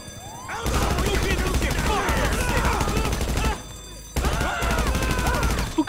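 Rapid gunfire during a bank heist in GTA 5, dense bursts of automatic shots rattling continuously and loudly, broken by a short pause before another sustained volley.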